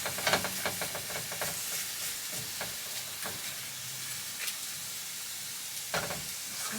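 Onions and lentils being stirred in a hot pan aboard a narrowboat: a continuous bright sizzle with scraping, clattering strokes of the spoon coming close and loud.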